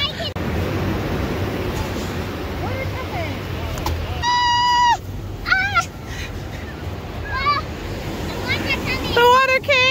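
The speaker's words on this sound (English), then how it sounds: "Those are big waves." Big ocean waves roll onto a beach in a steady, broad roar that never lets up, while a child's high cries and an adult's voice break in over the surf.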